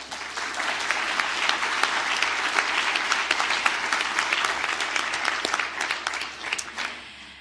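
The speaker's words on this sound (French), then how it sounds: "On peut tous les applaudir." An audience at a water-themed conference at the Université de la Terre applauds the panelists, a dense sustained clapping that holds steady and then tapers off near the end.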